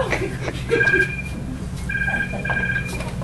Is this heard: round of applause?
no